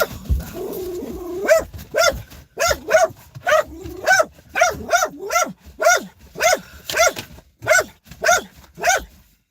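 A dog barking at cats in a neighborhood, repeated loud barks in a steady rhythm about every half second, close by, with a low growl at the start.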